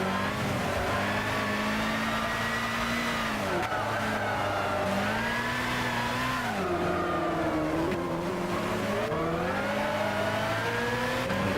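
Zytek Z11SN LMP2 race car engine in Gran Turismo 6 at GVS, a high revving whine rising through gears and dropping on shifts, continuous and loud with brief tire squeal.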